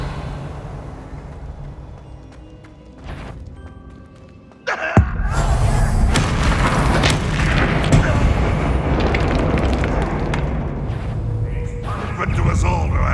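A Confringo fire spell explodes in the Hogwarts Legacy video game, a sudden loud boom that sets off a sustained, dense roar of blasts and rumbling, with game chatter mixed underneath.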